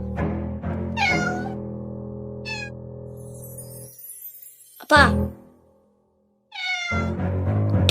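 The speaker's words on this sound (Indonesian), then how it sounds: "Dasar kucing nakal." A cat meows several times in short, rising cries spread across a few seconds. A voice speaks between them.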